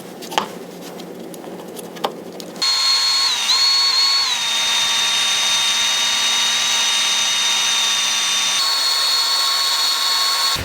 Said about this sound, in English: these little burnishing tools I've got here. Basically these go along the sides here and sort of help to like smooth it all out. And this goes on to my drill.